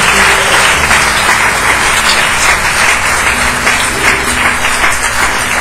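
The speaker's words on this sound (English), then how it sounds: "Come on, give the Lord a clap offering." A church congregation claps and applauds in loud, steady, dense applause that fills the whole room and never lets up.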